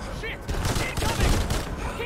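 Rapid bursts of gunfire in the video game Remnant 2, dense and continuous shooting that fills the short stretch, with a player's voice faintly mixed in.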